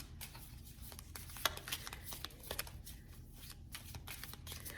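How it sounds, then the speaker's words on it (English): A deck of Island Time Wellness Love Oracle cards being shuffled by hand, with close, crisp riffling and flicking of card stock in a steady run of soft slaps, no voice over it. "let's shuffle the next deck"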